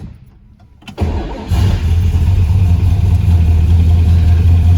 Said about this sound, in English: We're gonna start this baby up now